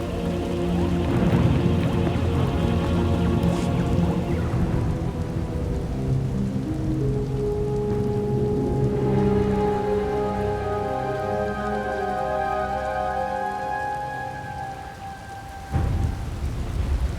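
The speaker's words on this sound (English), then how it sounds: "Hard to track them through the storm. Rain's wiped out the trail." Steady heavy rain pours throughout in a Star Wars: The Old Republic game storm, with low rolling thunder and a rumbling storm atmosphere underneath, continuous and loud.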